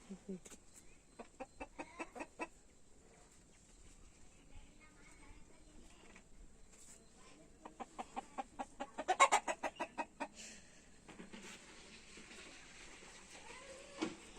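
Village chickens cluck in short rhythmic bursts, a quick run of sharp clucks near the start and another louder run in the middle. Faint background sounds sit between them, fairly quiet overall.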